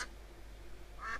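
Two short duck quacks from The Sims FreePlay mobile game, one at the start and one near the end, clear and fairly close over a low steady hum.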